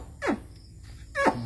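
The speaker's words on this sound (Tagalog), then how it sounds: "Tawag yung aso." A dog gives two short, sharp barks about a second apart, fairly close, over a faint room background.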